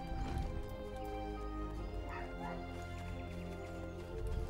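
Dogs yipping and barking somewhere in the background, faint and intermittent beneath a dense, constant wash of indoor noise.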